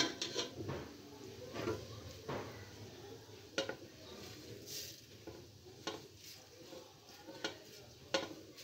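Cumin seeds hitting hot oil with ginger-garlic paste for dhaba-style chana dal, a soft sizzle with clinks and stirring scrapes of a spoon against the pot, fairly quiet and close.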